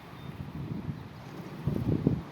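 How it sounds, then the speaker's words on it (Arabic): Strong wind gusting past the microphone on a rooftop pigeon loft, a steady low rumble that swells into heavier buffeting near the end, with no voices. "الهوا يا جدعان شديد جدا"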